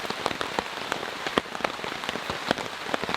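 Heavy rain pours steadily during a camping storm, a dense hiss of drops drumming on a surface with sharper close patters scattered through, no voices.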